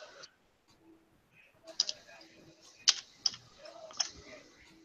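Short typed command on a computer keyboard during an online tabletop game session, a few sparse, faint clicks with small gaps, set against quiet background noise.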